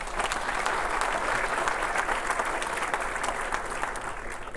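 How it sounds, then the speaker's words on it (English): Applause from the audience at a mayor's State of the City address, a steady, dense wash of clapping held at an even level throughout, with no voices over it. "Let's give him a round of applause"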